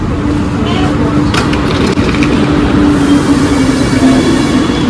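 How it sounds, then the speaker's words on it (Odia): A Chennai Metro train on the direct line to the airport runs with a steady, loud rumble and a sustained whining tone, with a voice speaking over it throughout. "ଏଇଟା ହେଉଛି ଏୟାରପୋର୍ଟର ମେଟ୍ରୋ।"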